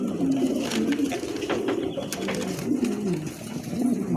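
Pigeons at a pigeon sales showroom coo in repeated low, throaty rolling phrases, close and clear, over a steady murmur of background noise.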